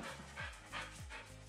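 Rapid, rhythmic panting from a dog nearby, short breathy pulses repeating steadily, with a few low whimpering tones underneath and no talking.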